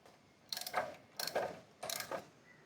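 A ratchet loosens the 19 mm front wheel bolt on a Honda PCX150 scooter in three short bursts of rapid clicking, each about half a second long, separated by brief pauses and heard close up.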